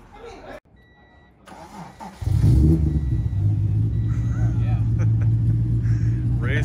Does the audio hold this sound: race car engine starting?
yes